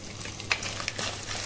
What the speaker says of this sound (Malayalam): നെക്സ്റ്റ് നമ്മൾ തേങ്ങാക്കൊത്ത് വറുത്ത് എടുക്കണം